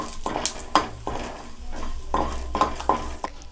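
Garlic is stirred in a pan while making tomato soup, with repeated metal scrapes and clinks of the spoon against the pan in an uneven rhythm over a faint sizzle, close by and with no talking.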